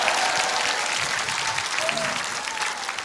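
Audience at a special church lecture in Korea gives a round of applause, a continuous, moderately loud clatter of many hands that holds steady throughout, with faint voices underneath.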